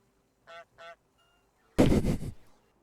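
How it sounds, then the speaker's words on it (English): Geese honk in a flock inside a Factorio megabase's rocket silos: two short, clear honks, then a loud, dense burst of overlapping honking calls that tails off. "Flock of geese landed in the silos, and now they're honking at all the rockets."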